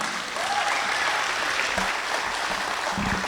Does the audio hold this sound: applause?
yes